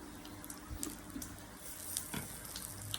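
Steady close sizzling and crackling of sliced pork on a Thai moo kratha grill, with small pops scattered throughout.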